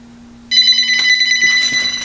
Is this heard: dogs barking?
no